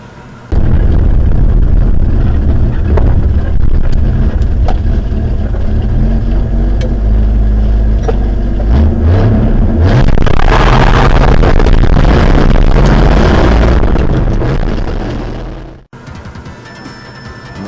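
A budget hot rod's 43-year-old, 200,000-mile engine runs loud and close, rumbling steadily with popping bursts and revving swells, then cuts off and leaves a quieter tail.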